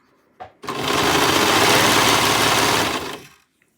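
A sewing machine stitches fabric for a maxi skirt, a short tap followed by one sustained, loud, close burst of fast whirring that lasts about two and a half seconds before stopping.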